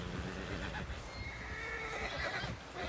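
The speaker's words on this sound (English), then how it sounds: "Someone help John down off this horse." A horse whinnies loudly in Red Dead Redemption 2 amid hoof clatter and a busy, noisy background, close and energetic.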